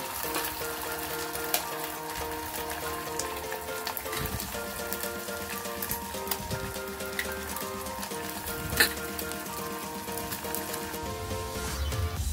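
An egg cracked into a hot pan fries with a steady, loud sizzle and crackle that runs throughout, with a few sharper pops and no talking, while an Andhra-style coriander and brinjal chutney is being cooked.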